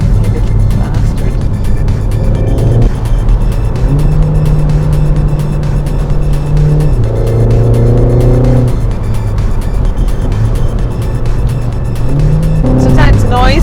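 Renault Mégane R.S. Trophy engine and exhaust droning steadily while driving, pitch stepping up and down through gear changes, close and loud with a brief higher rev flare near the end.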